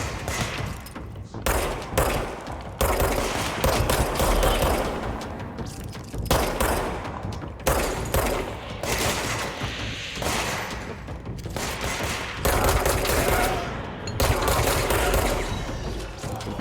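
Rapid bursts of gunfire in the video game Control, repeated loud close volleys with thuds and impacts separated by brief pauses, filling the whole stretch.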